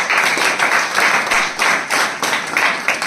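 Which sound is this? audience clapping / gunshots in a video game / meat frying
audience clapping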